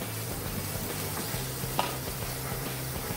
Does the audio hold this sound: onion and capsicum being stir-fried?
yes